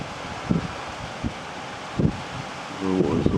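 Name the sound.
wind blowing outdoors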